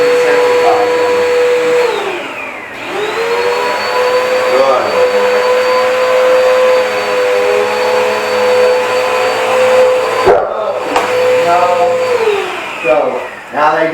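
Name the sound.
vacuum cleaner running near a dog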